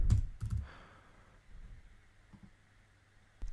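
A computer keyboard typing into a software client search field, with a few quick, quiet clusters of key clicks near the start before the room falls nearly silent.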